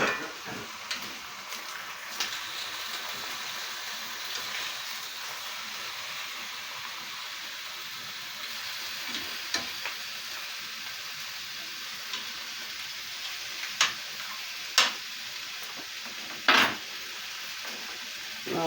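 Pork chops browning in a pan give a steady, moderate sizzle throughout, with a few sharp clicks and clatters of utensils near the end and no talking.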